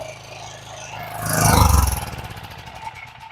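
A Craftsman edger's small engine, just repaired, fires up nearby and swells to a brief rev before dropping back to a rough, uneven idle, heard alone.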